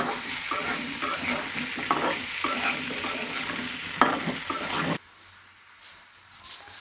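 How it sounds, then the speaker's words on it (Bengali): Salted potatoes fry in a pan with a loud, dense sizzle and the rough scraping of stirring, close up, before cutting off to a much quieter stretch with faint clatter. "আমি আলুগুলো ভালোভাবে ভেজে নিয়েছি"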